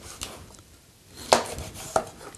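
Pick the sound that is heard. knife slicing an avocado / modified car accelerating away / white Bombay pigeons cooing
knife slicing an avocado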